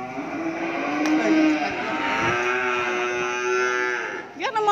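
Cattle low in long drawn-out moos beside a cattle truck bound for Cu Chi, the calls loud and close, with a short rattling noise at the end.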